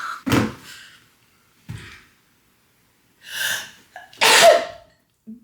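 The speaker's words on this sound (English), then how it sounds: "sneeze," A single sharp sneeze with a gasping intake before it, separated by pauses and scattered breathy sounds, fairly close and loud.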